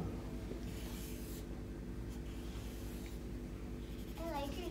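A marker or pen scratches and rubs across a paper circle chart in a children's word-family lesson, in short strokes with pauses, while children murmur and talk faintly in the background.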